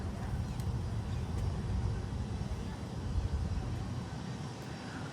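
An airliner lining up on runway 8 at San Juan's SJU airport produces a steady, distant jet engine rumble and hiss that holds evenly throughout, with no voices.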